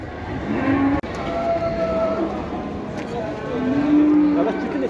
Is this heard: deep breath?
no